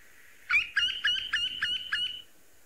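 A red-throated wryneck calling, a quick series of about six sharp, nasal, woodpecker-like notes in an even rhythm, clear and fairly close over a quiet background.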